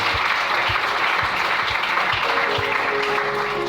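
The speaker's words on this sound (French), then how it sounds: "Est-ce qu'on peut acclamer le Seigneur?" A church congregation claps together in steady, sustained applause that fills the room throughout, with a faint murmur of voices underneath.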